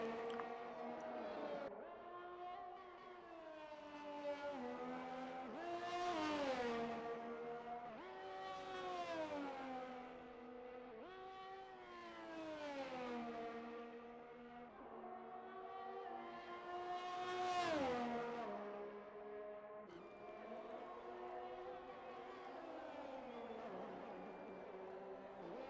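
Race car on a lap of the Saudi Arabia round in a racing video game, its engine note climbing and falling through repeated gear shifts, each rise peaking sharply before dropping, steady and fairly faint with no talk.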